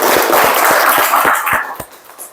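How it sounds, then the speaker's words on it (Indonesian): Brief round of hand clapping from a small group in a vocational classroom after a motorcycle DC lighting system check, with sharp separate claps thinning out toward the end. "Tepuk tangan dulu."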